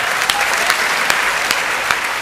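An audience at a Hindi comic poetry recital claps in a brief, steady round with a few sharper individual claps standing out.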